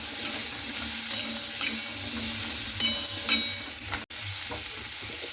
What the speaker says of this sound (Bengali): এবারে আদাটা দিয়ে খুব ভালো করে এইভাবে আমি নাড়াচাড়া করে নেব।